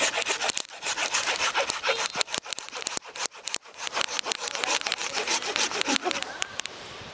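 A hand saw cuts a branch of a bonsai apricot tree up close in rapid rasping strokes, with a steady rhythm of short, gritty wood-cutting bursts.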